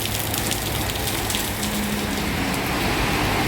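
Rain falling steadily around Singapore garden flats during a walk along a covered walkway, a dense, constant patter and wash of drops at fairly close range with no talk.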